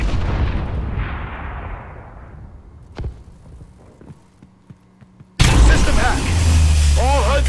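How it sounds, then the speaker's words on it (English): Missile strike explosions in Call of Duty: Advanced Warfare: a heavy boom that decays over a second or two, scattered distant thuds, then a loud sudden blast with rumbling debris near the end. "Enemy missile strikes."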